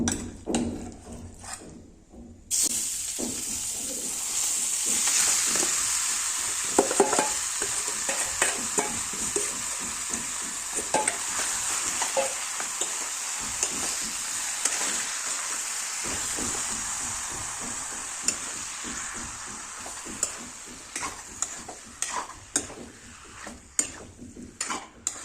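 Marinated chicken frying in butter over a low flame, a steady close sizzle with frequent spoon stirring clinks and scrapes against the pan, without talking.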